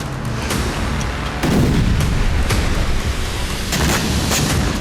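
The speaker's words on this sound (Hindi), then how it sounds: "रिहायशी इमारत पर मिसाइल गिरी। स्पोर्ट्स कॉम्प्लेक्स पर मिसाइल गिरी।" Heavy blasts from missile strikes during the war in Ukraine, several loud booming bursts with rumbling echoes rolling over a constant roar of background noise.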